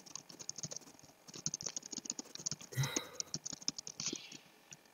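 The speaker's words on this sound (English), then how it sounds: "That's why I'm mad typing." Rapid typing on a computer keyboard, a quick irregular patter of clicking keys close to the microphone, fairly quiet, with a short louder knock in the middle.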